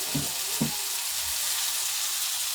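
Mixed vegetables for a Bengali vegetable ghonto fry in a pan with a steady, close sizzling hiss that runs throughout, broken early by two soft low knocks like stirring.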